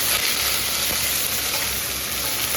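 Chopped onion and garlic fry with cumin in a pan for chicken curry, producing a loud, continuous, close sizzle with an occasional stir.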